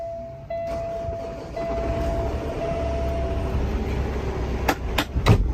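A 2016 Peterbilt 579 truck's Cummins ISX 450 diesel engine, about 900,000 miles, cranks and catches, then settles into a steady, rumbling idle with some metallic clatter near the end.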